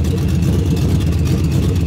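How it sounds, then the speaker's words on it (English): A supercharged Cobra Mustang engine idles loudly and steadily after sitting for 21 years, a deep, rumbling, continuous burble heard up close with no talking. "The blower sounds awesome at idle."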